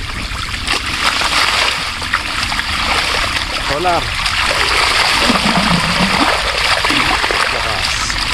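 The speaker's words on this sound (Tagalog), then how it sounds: "tubig tayo sa kalamansi dito sa may tabing kubo." Water splashes and trickles steadily while calamansi plants are watered beside a rural hut, a continuous loud wash of water. Voices speak over it now and then.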